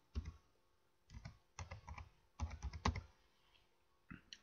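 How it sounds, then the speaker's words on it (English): Short bursts of typing on a computer keyboard, with clustered clicky keystrokes separated by brief pauses, close and fairly quiet with no talking. "I'm going to type V and Y location."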